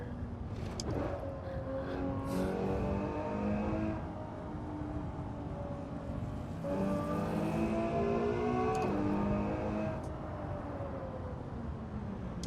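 A Ferrari 812 Superfast driving on a dirt road, its engine loud and close with a steady drone that twice climbs in pitch through strong revving pulls, then settles back.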